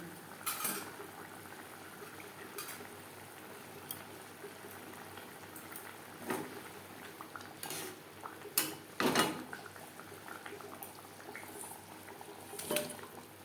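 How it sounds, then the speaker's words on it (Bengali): Katla fish curry gravy bubbles quietly in a pan, a soft low simmer punctuated by occasional clinks of a utensil against the pot; faint and close, with no talking. "গ্রেভি বেশ ভালো করে ফুটতে শুরু করে দিয়েছে"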